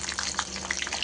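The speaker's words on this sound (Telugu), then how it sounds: "ఆయిల్ హీట్ అయిపోయింది ఫ్రెండ్స్. కొంచెం పోపు గింజలు వేసుకోవాలి." Tempering seeds crackle and sizzle in hot oil in a pan, a close, steady hiss dotted with small rapid pops across one brief second, no voices.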